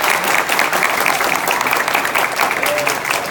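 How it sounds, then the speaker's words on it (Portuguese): Sustained applause from an audience honoring graduating academics at an evening event, steady and fairly loud throughout with dense clapping and a faint murmur of voices underneath. "a gente pudesse encerrar esse trabalho aqui hoje com mais uma salva de palmas para esses"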